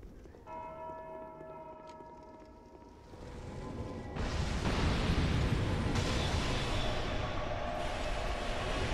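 A large bell in the dark fantasy game Dark Souls 2 rings with a sustained, resonant metallic tone that fades out, then a heavy rumbling crash and loud roaring noise swell and take over.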